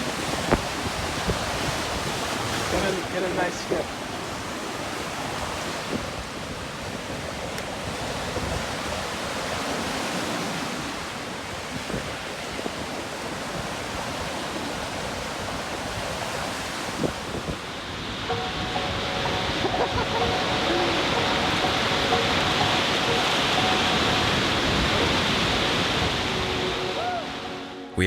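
Ocean waves wash onto a beach as a steady, loud rush of surf with wind buffeting the microphone, and a person speaks briefly amid the roar.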